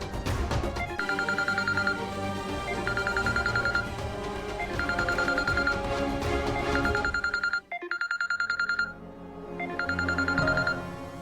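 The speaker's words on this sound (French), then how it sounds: "C'est le téléphone de Mehek." A mobile phone rings in repeated bursts of a bright electronic ringtone over music, pausing briefly before the ringing resumes, loud and close.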